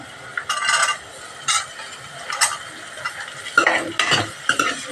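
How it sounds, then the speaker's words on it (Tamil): Carrots being sautéed in oil in a pan for Mysore dal sambar, with a spoon scraping and stirring in repeated bursts over a soft, steady sizzle, close and fairly loud, no voices. "ஒரு ரெண்டு நிமிஷத்துக்கு நல்லா கேரட் போட்டு நல்லா எண்ணெயில் வதக்கட்டும்"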